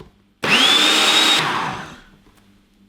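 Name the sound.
blender whizzing sauce with garlic chunks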